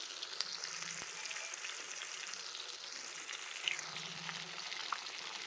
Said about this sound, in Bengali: মাছটা একটু কড়া করে ভাজবেন।